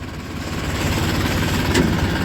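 A tractor hauling sugarcane idles on a foggy morning, its loud, close engine putting out a steady low throbbing rumble with faint vibration.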